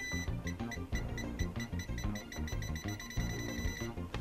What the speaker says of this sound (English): As you move the trim tab outward, you'll hear a beep that increases in frequency.